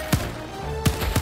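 Gunfire from a machine gun in the Helldivers 2 video game: three separate heavy, punchy shots spaced irregularly over a low steady hum, each a short thump with a bright crack.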